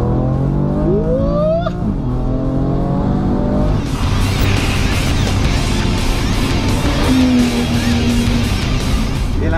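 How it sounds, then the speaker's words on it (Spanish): BMW M3 CS with 460 horsepower accelerating hard down a straight at the Nürburgring circuit, engine climbing through a shift before roaring loud and steady under rushing wind, close in the cabin with a brief voice early. "ahora voy al volante del M3 CS 460 caballos, nada menos. Recta libre, vamos allá"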